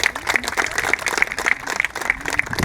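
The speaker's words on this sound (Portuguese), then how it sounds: "Uma salva de palmas a todos e todas." An audience at a gathering breaks into warm applause, a dense, steady patter of many hands clapping together at close range for a few seconds.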